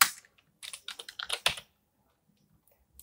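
Bursts of rapid clicking keystrokes on an old, worn computer keyboard, close and fairly quiet, with short pauses between flurries and no talk.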